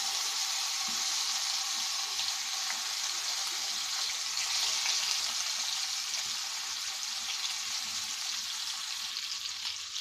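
Egg and tomato fry in a pan with oil, giving a steady, even sizzle that holds for the whole stretch at moderate level, with no talking.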